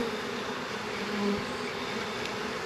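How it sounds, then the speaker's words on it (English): Honey bees swarm around an open backyard hive during an inspection, a close, steady, dense buzzing drone that fills the whole stretch with no talking. "These bees are kind of clingy today."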